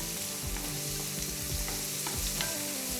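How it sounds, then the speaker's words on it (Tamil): Chopped onions sautéing in a pan with bay leaves for paneer butter masala, a steady close sizzle broken by occasional scraping stirs. "இப்போ ஆனியனை ஆட் பண்ணிக்கிறேன். ஆனியன் நல்லா வதங்கணும்."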